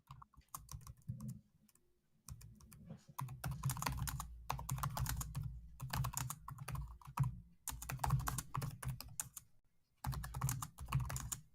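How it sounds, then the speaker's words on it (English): Rapid bursts of computer keyboard typing in irregular clusters with short pauses, close and fairly loud, with no voices. "He's typing, and he's probably reporting me to Twitter and YouTube."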